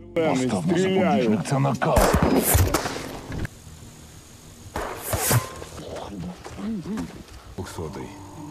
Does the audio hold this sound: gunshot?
yes